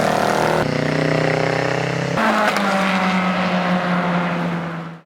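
A 24 Hours of Lemons race car rebodied as a Ferrari 288 GTO roars past on track, a loud, steady engine howl that shifts pitch as the car passes and then fades away at the end.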